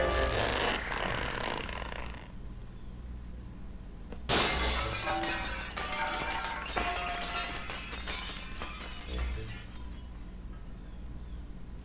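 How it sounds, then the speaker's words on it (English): An invisible wall in The Legend of Zelda: The Wind Waker shatters under a sword strike, a loud glassy crash after a quieter stretch of game ambience and music, followed by ringing shards and a few smaller breaking sounds. "what you want to do is pull out the sword and then shatter it"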